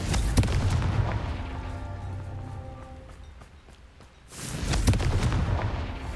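Confringo blasting spell explosions in Hogwarts Legacy: a heavy boom with crackling debris that fades out, then another loud burst with a rumbling tail after a brief lull.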